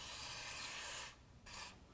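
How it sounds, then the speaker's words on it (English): Penetrant sprays from an aerosol can onto the crank sensor area under a 2002-10 Dodge Ram truck, a hissing burst of about a second, a short pause, then a second brief spray. "So I'm just going to spray down the area."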